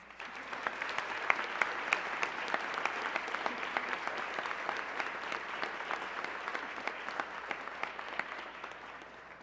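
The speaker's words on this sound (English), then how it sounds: "Please give them a round of applause" Sustained applause from a banquet audience at a university honors dinner, clapping steadily for former nominees as they stand, with dense, even hand claps and a few sharper claps poking through for about nine seconds, no talking over it.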